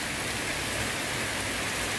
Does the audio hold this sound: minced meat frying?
no